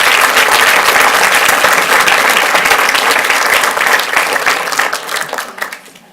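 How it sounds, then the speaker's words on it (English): Audience at a Fort Worth ISD school board meeting breaking into loud, dense applause that holds steady before thinning out and fading near the end. "Let's give them a round of applause, please."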